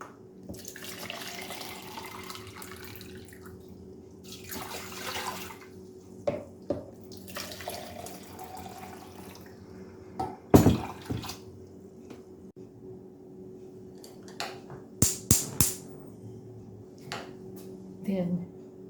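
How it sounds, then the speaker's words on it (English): Water poured from a cup into a pan holding chopped orange peel, heard as bursts of splashing and trickling at close range, followed by a few sharp clinks and knocks of the pan and cup. "now I'm going to add 3 cups of water"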